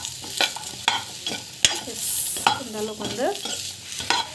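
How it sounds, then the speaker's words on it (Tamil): Seedless dates sautéed in a pan on a gas stove, stirred with repeated scraping and clattering strokes over a low, steady sizzle, close and fairly loud; a voice speaks briefly. "ஆட் பண்ணிவிட்டு டேஸ்ட்டு வந்து நல்லா வதக்கிட்டுக்கோங்க."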